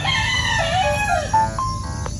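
A rooster crows nearby on a farm resort in Toril, Davao City, its long wavering call rising and falling, followed by a couple of short clucks.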